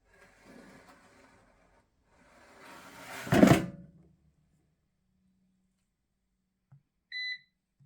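A kitchen air fryer gives a single short electronic beep near the end, after a loud scraping clatter of its basket drawer sliding open and shut about midway, with quieter handling noise before it.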